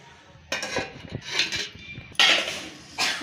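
A lid clatters onto a cooking pan of pithla with oil and green chili, a few metallic clinks and knocks in quick succession, close and fairly loud against a quiet kitchen.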